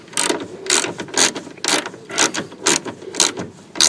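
A ratchet clicks in a quick, regular series of about eight loud, close strokes while tightening the check strap screw on an Opel Astra, Vectra or Corsa car door.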